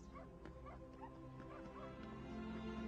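A dog in a dubbed action film whimpers and gives soft yips over a steady background hum, quiet and fairly distant, with no clear speech.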